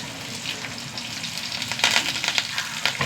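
Dried red chillies, small shallots and fresh curry leaves frying in hot oil give a steady close sizzle with brief louder crackling bursts near the end.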